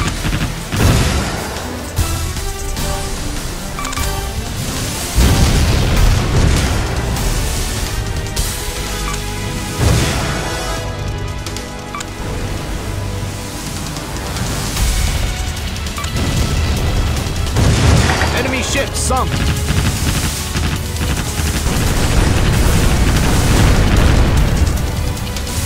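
Ships explode and sink in the naval video game Warship Gunner 2, with heavy booms and crashing blasts repeating densely over layered game noise, loud and continuous.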